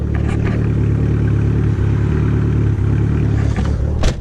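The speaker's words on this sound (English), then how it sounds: "This one always starts, but it runs really rough at idle until it warms up" A Dodge Neon SRT-4 with a modified cam and tune idles steadily after starting, a loud, constant engine drone with a faint clatter and a brief rise near the end.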